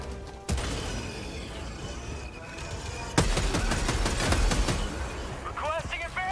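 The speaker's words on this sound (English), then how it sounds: "Throwing grenade!" Grenade explosion and gunfire in the video game Helldivers, a sharp blast followed by dense continuous shooting, loud and close, with voices calling out over it.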